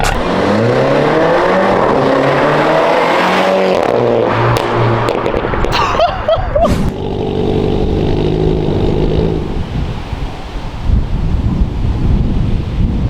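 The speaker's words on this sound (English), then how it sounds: "we took the resonator out of this thing. It is so loud now." A MINI F56 John Cooper Works hatchback with its exhaust resonator removed roars loudly and close, engine pitch climbing and dropping through revs with sharp pops midway, heavy wind buffeting the microphone throughout.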